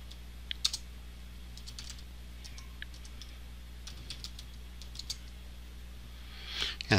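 Soft, quick keystrokes on a computer keyboard while entering text in CorelDRAW, arriving in short irregular bursts of clicks against a low steady hum.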